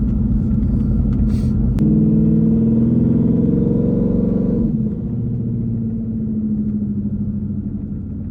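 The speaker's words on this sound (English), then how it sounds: "I don't know if you can hear the turbo spool, but with the dumps, it's just so much more profound." Twin-turbo 2020 Shelby GT500 with a TH400 transmission swap, its engine rumbling loudly at close range; a rising spool tone fades into a sharp dump near the midpoint, then a steadier, lower drone carries on.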